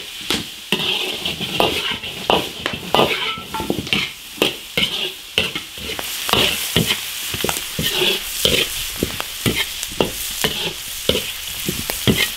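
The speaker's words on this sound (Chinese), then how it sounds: "下入所有的调料， 把这调料的香味都煸出来。" Seasonings stir-fried in an iron wok, with a metal spatula scraping and clacking in an irregular rhythm over a steady sizzle, close and fairly loud, no talking.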